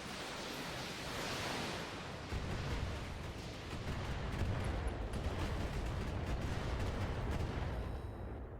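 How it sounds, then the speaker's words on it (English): Dense, sustained roar of a 60-missile LRM salvo launching in the BattleTech video game, a continuous rumbling barrage that swells after a softer opening and holds steady for several seconds with no talk. "We're launching all 60 missiles."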